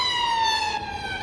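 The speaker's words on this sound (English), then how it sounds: "An ambulance there." An ambulance siren wails steadily on Whitehall in London, its rising and falling tone clear and fairly close, with faint traffic noise underneath.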